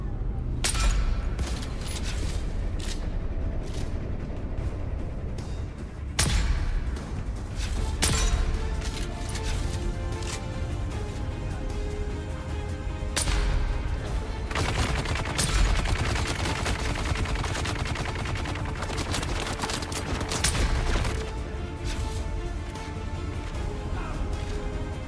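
A Gatling gun fires in Dune Awakening, with sustained rapid bursts and repeated volleys of gunfire that start, stop and resume across a long, loud, busy stretch of combat.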